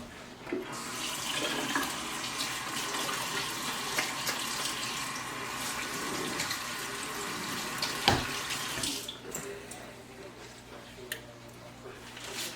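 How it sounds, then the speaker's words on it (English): Water runs steadily from a kitchen tap while hands are washed under it. The splashing lasts about nine seconds, then stops, leaving faint room noise. "Trying to wash my hands now."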